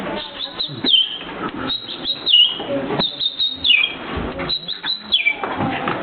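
Mimicking a tree sparrow, a performer whistles rapid, high chirps and twittering notes in quick clusters, near and fairly loud, with no speech over them.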